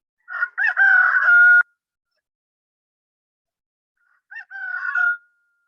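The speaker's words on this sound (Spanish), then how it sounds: "El gallo tiene sonido determinado, tiene notas musicales" A rooster crows loudly once, then after a pause of silence a second, shorter crow follows, clear and close.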